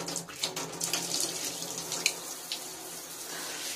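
Water streams from a newly installed plastic shower head into a tiled bathroom tub, a soft, continuous splashing hiss with faint drips, fairly quiet and steady throughout.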